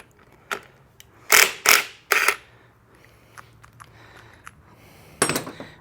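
Tool work on crank seals of a 2023 KTM 300 XC dirt bike: a few sharp mechanical clicks and clacks in quick succession, a loud cluster near the start and another at the end, with quieter handling noise between.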